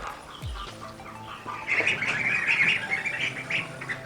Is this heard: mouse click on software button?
no